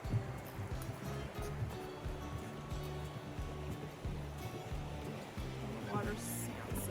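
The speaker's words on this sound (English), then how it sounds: "The water sounds so pretty." Water flows steadily at Fall Creek Falls, a continuous broadband rush heard from a little distance, with faint voices underneath.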